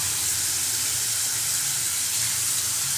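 Tomatoes sautéing in a pan for an egg kurma, a dense, steady, close hiss of frying that runs unbroken with no talk.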